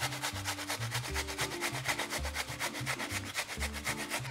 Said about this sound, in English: And these get grated in on a nice big fat bit of the grater.